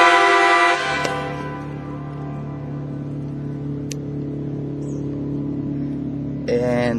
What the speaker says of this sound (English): that was a train horn out on the water